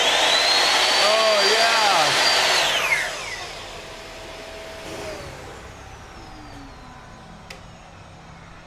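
A miter saw powered by a solar cargo trailer whines loudly at high pitch for about three seconds, then winds down with a descending tone. A brief spoken exclamation sits under it.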